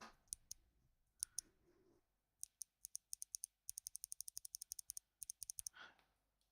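Orange-switch mechanical keyboard keys clicking in bursts of sharp, crisp clicks, some single and some in quick rapid runs, close and fairly quiet, with brief pauses and a soft breath between.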